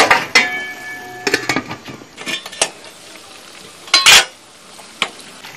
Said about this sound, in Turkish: Bakın karıştırıyorum.